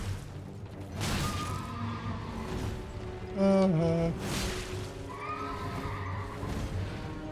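The Night's Cavalry horse in the Elden Ring video game, near the Grand Lift of Rold, gives a loud, close whinny mid-clip over a bed of rumbling game noise, with hoof-like thumps around it.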